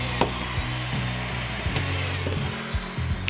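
Power driver sinking PanFast screws through glued floor patches in a century-old house under renovation, short repeated motor whirs that ramp and stop, each screw following quickly after the last, close and fairly loud.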